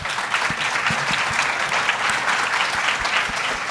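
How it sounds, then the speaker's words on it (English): Conference audience breaks into sustained applause, a dense wash of many hands clapping steadily and fairly loud throughout, with no talk over it. "one more round of applause for everyone"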